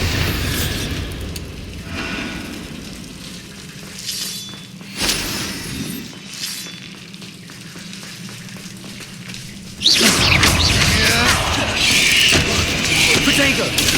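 Bombarda and Confringo explosion spells in the video game Hogwarts Legacy, heard as bursts and booms with shattering, a sudden loud blast near the end sustained over game noise, with speech spoken around them.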